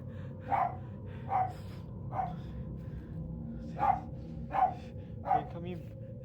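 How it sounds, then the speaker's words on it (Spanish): Benjamín the dog barks six times in short, evenly spaced barks indoors, moderately close, with a low background hum between them. "Benjamín, deja de ladrar"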